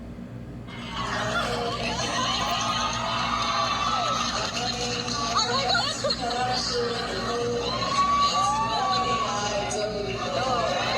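A crowd of fans at a concert in Singapore cheers and shouts steadily throughout, a dense, continuous roar of voices with scattered whoops and laughter.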